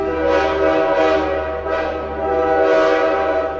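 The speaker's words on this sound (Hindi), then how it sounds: "पचपदरा में गुलाब गाड़ी की सीटी गूंज उठी" A train whistle blares at Pachpadra as the train arrives, a loud, sustained, steady tone that swells and dips a few times over its full length, with no voices.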